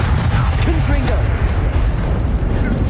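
Loud, booming blast from the Confringo spell in the video game Hogwarts Legacy, a continuous rumbling explosion mixed with battle noise and voices shouting over it.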